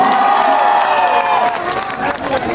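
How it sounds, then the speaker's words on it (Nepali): An outdoor crowd at Mahesh Kafle's live show at Baliya Mahotsav 2080 claps and cheers loudly and continuously, with shouting voices and a tonal hum of music underneath. "मेरै लागि पनि जोरदार ताली पाउन दो साथी हो"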